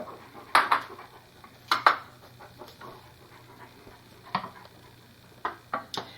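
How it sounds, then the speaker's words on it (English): A spoon scrapes and clinks against a pan as butter, Crisco and cocoa are stirred over medium-high heat for Texas sheet cake, giving a few sharp metallic taps and scrapes over quiet background. "you need to just stir this over medium to medium high heat, stirring it constantly"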